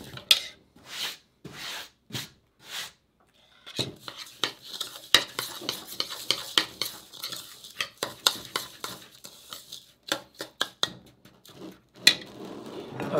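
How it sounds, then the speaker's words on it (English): Key lime pie filling stirred by hand in a bowl, a quick irregular series of close scraping and tapping strokes after a few separate knocks at the start. "now let's get to stir that up some here"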